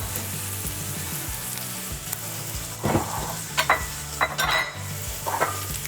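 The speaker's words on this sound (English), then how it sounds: "I'm gonna just mix this for a minute. I have it like kind of like on high heat" Carrots and potatoes sizzle steadily in a pan on high heat for alicha while a spoon stirs them, with scraping clatters and knocks against the pan rising over the constant frying hiss.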